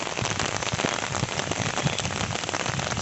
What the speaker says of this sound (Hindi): बारिश हो रही है बहुत तेज़, इसलिए चलते हैं।